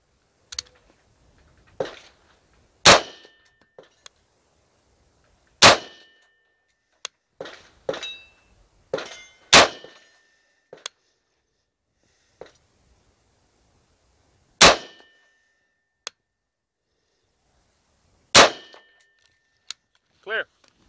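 Winchester M855 rifle rounds fired at a steel target, a series of sharp isolated cracks and metallic rings spaced a few seconds apart, with quiet gaps and small clicks between shots.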